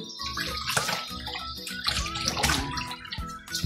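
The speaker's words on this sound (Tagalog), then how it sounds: "Running water po talaga ako maghugas ng mga ulam." A kitchen tap runs continuously while food is washed under it, the water splashing and gurgling with irregular bursts, fairly close and unbroken throughout.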